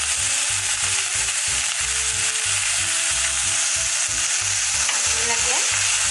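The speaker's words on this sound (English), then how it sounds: "I'll now put this capsicum, green capsicum in this" Green capsicum fries in a pot with salt and sugar, producing a loud, continuous close sizzle with a rhythmic low thumping pattern underneath.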